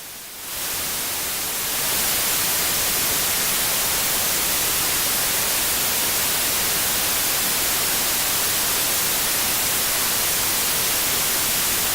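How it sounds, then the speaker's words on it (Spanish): Loud, steady white noise played as a test signal for electronic audio effects fills the whole span with an even hiss after a short, quieter start, with no talking. "ruido blanco"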